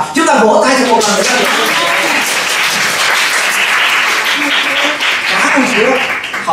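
Congregation at a Vietnamese church service breaking into loud, sustained applause, a dense wash of clapping that fills the space, with a voice speaking briefly over the start.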